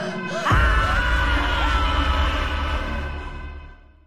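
A man in his room lets out a sudden loud scream that sustains for about three seconds, then trails off, alone with no talk.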